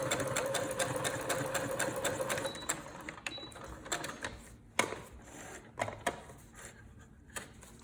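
A sewing machine runs steadily as it stitches a dress neckline, its dense mechanical chatter continuous at first, then breaking into slower, shorter bursts with clicks and pauses between.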